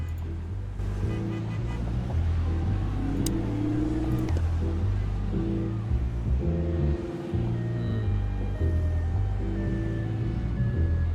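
A car engine revs in the video game Chicken Police, a steady low droning motor with shifting pitch that carries on for the full stretch over a continuous wash of background noise.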